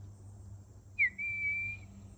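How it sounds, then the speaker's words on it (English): A person whistles to a wild bird near a chicken coop, one short rising note followed by a long steady tone, clear and close over a low background hum. "We whistle, well, the bird will call, and I'll whistle to the bird sometimes"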